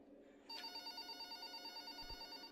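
A telephone rings in the horror video game Exanium, a steady electronic trilling ring that starts abruptly and pulses evenly, fairly quiet and alone apart from a faint low thump.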